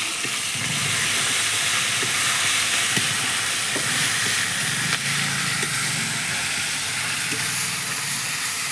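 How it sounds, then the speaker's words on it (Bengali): A ginger, garlic and cumin paste masala sizzles steadily in hot oil while crab curry is cooked, a dense continuous hiss with faint scraping stirs underneath and no talking. "আদা বাটা, রসুন বাটা, জিরে বাটা দিয়ে মশলাটাকে কষে নেব।"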